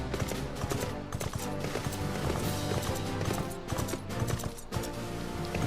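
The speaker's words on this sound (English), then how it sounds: "Taking my horse." Rapid, steady hoofbeats of a horse at a gallop, loud and continuous with a layered game soundtrack behind it.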